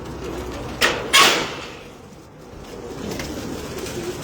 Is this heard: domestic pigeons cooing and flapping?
yes